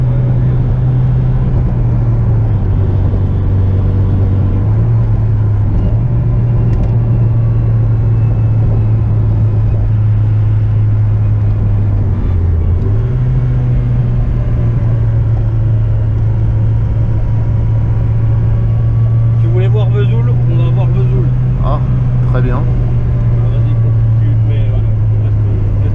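Peugeot 205 Turbo 16 Série 200 engine drones steadily while driving, a strong low hum shifting pitch through gear changes and a brief dip near the middle, with people talking over it.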